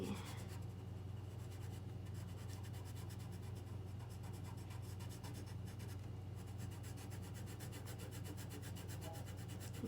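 A colored pencil scratches steadily across paper as an area is filled in, a soft, continuous rubbing texture close up, quiet and unbroken with no talking.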